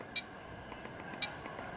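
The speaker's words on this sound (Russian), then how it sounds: "Такой вот звук клавиш." Two short, faint electronic keypad beeps from an Alcatel 2053D phone, about a second apart, over a quiet background hiss.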